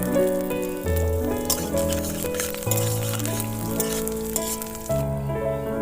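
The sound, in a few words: frying whole cumin, chopped garlic and ginger in oil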